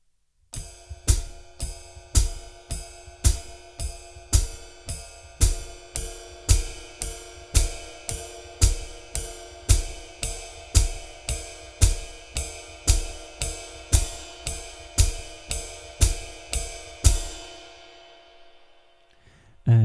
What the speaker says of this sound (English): We'll just start with straight time on the ride cymbal